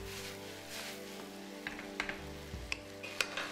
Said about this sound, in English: Mix and fry.